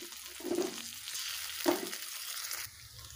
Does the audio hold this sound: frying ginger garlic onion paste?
yes